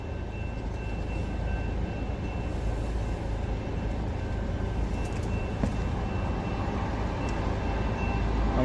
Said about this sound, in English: Train coming, guys.